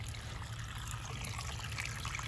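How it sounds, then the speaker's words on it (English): Quiet trickle of water poured onto a garden plant in a subtropical garden with former clay soil, a soft continuous dribbling splash heard close and alone. "I water this."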